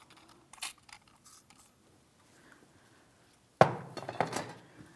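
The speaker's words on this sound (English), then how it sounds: "use some penetrant and we'll use a hammer and chisel" A hammer and chisel striking a stuck ball joint stud in the steering knuckle of a 2007-2014 Ford Edge: a single sharp metallic blow near the end with a brief ringing decay, after quiet faint workshop noise.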